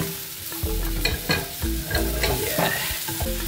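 Garlic sizzles in a little oil in a pan while being stirred, with steady frying hiss and repeated scraping strokes of a utensil against the pan, close and moderately loud, no talking.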